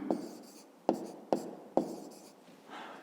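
A pen scratches across paper in short strokes, with four or five distinct taps and scrapes, quiet and close while large numbers are written out by hand during a fifth-grade subtraction exercise.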